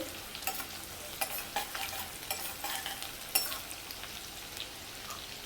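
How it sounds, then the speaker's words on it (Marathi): Garlic and green chili sautéed in hot oil just after mustard seeds have crackled, giving a steady close sizzle with light stirring scrapes and small pops throughout, no voices. "त्यामध्ये लसूण मिरची लसूण थोडा परतून घेऊया"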